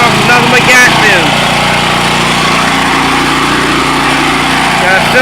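A small gasoline engine, likely a lawn mower or generator motor, fed only on gas fumes, runs with a steady high buzzing drone throughout, loud and close, with brief handling noise near the start.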